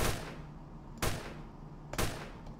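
Gunfire in the Roblox video game: three sharp shots spaced about a second apart, each a sudden loud crack that fades quickly, with no voices in between.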